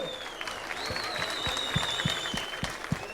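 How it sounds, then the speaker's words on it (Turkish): Audience applause at a professional kickboxing and Muay Thai competition, scattered clapping from a modest crowd, fairly faint and distant, with a steady tone and light crowd murmur behind it. "Bu söz alkışlanır."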